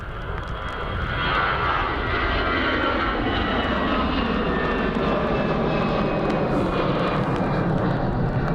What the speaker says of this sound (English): 320 Neo to Lanzarote lining up now